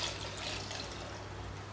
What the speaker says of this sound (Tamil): இப்போ தண்ணி ஊற்றிக்கிறேன்.